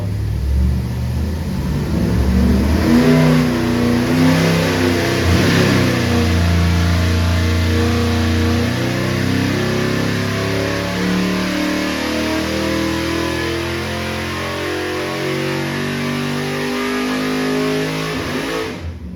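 Hot rod engine on a dyno revving hard and continuously, loud close mechanical roar with rising and falling pitch sustained for the whole stretch.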